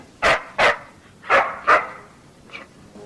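A dog barks four times in two quick pairs, sharp and close, followed by a fainter short yip.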